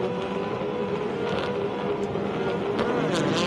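Touring race cars, including Nissans, pulling away at the start of a 1992 Australian Touring Car Championship round at Eastern Creek, a dense roar of engines heard at a distance and steady throughout.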